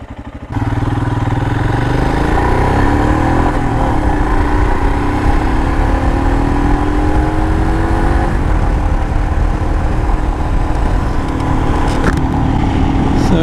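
A Royal Enfield Himalayan motorcycle ridden through the gears on a mild mid-March road, its single-cylinder engine thrumming loud and close as it pulls and accelerates, a steady throbbing drone with rising pitch and no speech.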